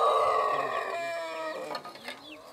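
Chickens and a rooster on a small rural farm cluck and crow in a busy, overlapping chorus, loud at first and then thinning into scattered calls, with no talking.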